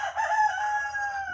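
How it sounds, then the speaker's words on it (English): A young rooster crows outdoors in the morning, one loud, sustained cock-a-doodle-doo with a bright, strained tone, heard close and alone over a faint low hum. "My baby bird's just hollered."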